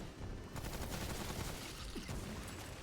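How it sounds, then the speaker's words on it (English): Hive cannon fire in a post-apocalyptic shooter game, a dense, continuous rattle of rapid explosive bursts and booms that fills the whole clip at a steady level with no talk. "The hive cannon did nothing."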